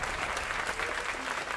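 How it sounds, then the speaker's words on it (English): A dense, steady patter of clapping fills the space evenly, close and sustained for the short span with no voices over it. "hold for applause."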